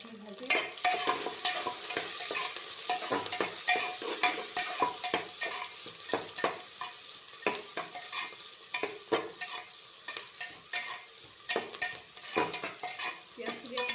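Sliced onions and a few dried red chillies frying in a pan, with a continuous sizzle broken by repeated scraping stirs of the spoon, close and fairly loud, with no talk.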